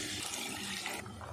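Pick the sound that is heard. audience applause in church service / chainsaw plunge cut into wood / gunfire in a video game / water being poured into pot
water being poured into pot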